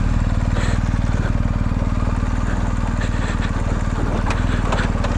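A superbike's engine runs steadily nearby with a loud, rapid, even throb and a continuous low rumble while the bike is brought down a slope, without audible speech.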